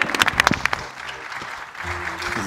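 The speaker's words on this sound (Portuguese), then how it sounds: "Palmas, por favor." An audience at a stand-up comedy show in Beira claps in a short burst of applause with a few cheers, fading quickly into background murmur and a faint low hum.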